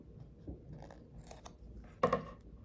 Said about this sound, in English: I just take the scissors